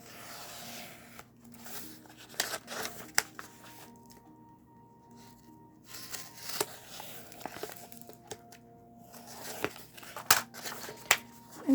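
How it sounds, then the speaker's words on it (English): Book pages being torn by hand, a quiet close series of sharp rips and papery crinkles at irregular intervals, alone without talk. "So I'm gonna tear some of the book pages"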